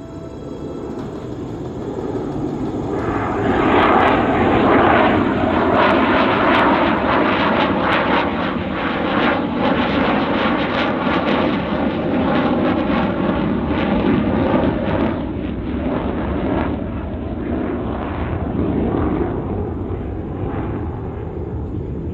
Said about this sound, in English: Once again at Show Center, the B-2 Spirit, known as the Spirit of America.